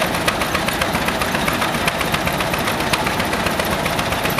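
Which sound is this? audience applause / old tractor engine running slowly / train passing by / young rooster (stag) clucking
old tractor engine running slowly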